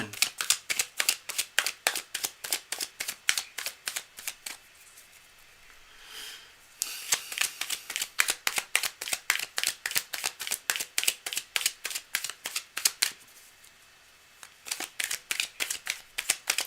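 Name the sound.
shuffling a deck of reading cards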